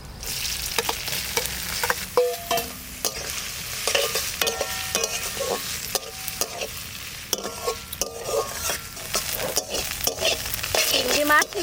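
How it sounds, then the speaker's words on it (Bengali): Small prawns fried in mustard oil with garlic and chillies, sizzling loudly while a utensil scrapes and stirs the pan in repeated irregular strokes. "চিংড়ি মাছ নাড়তে নাড়তে ভাজা হয়ে গেল, সুন্দর ভেজে নিচ্ছি"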